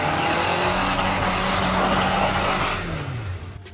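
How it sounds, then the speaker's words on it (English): Toyota Prado engine held at the rev limiter as all its wheels slip on a snowy, icy climb: a loud, sustained high-revving drone with a steady pitch that eases off slightly near the end, with no talk. "The Toyota slips all its wheels, and with the engine revving at the limiter, the car conquers the climb"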